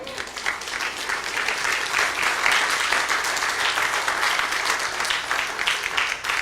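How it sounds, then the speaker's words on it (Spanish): Congregation at a church seminar applauding steadily, a dense sustained round of clapping at moderate level with some voices faintly mixed in. "Dele palmas al Señor, hermano."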